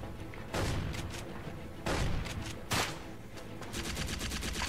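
Gunfire in the video game Secret Service, with shots coming through a wall: loud, dense bursts and single heavy reports, then a fast rattling string of rounds near the end.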